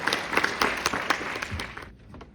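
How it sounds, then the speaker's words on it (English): Indoor audience applause following senior student speeches: a brief patter of scattered claps that thins out and fades within about two seconds. "Would you all give another round of applause for young people?"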